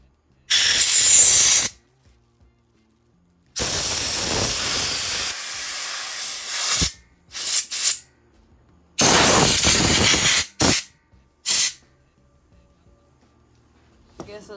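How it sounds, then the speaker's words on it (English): Compressed air blows through the small passageways of a carburetor on a 1999 Yamaha Razz scooter, in loud hissing bursts, some long and some short, separated by silence. "All I'm doing is just blowing these little passageways out."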